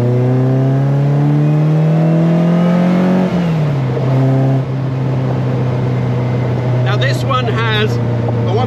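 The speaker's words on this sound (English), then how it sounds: "Let's just take it up through the gears again and through the S-bend." A Caterham 21 sports car with a tweaked 1.8-litre engine of about 180 horsepower climbs through the gears, its loud engine note rising, dropping at a shift, then holding steady while someone talks over it.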